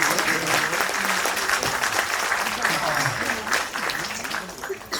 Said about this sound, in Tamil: ஐயாவை வாழ்த்துவதற்கு ஒரு முறை கைதட்டுக்க வேணும்.